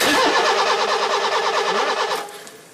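A car engine cranks with a rapid, rhythmic starter whir for about two seconds, loud and close, then cuts off without catching during a roadside breakdown check of the ignition.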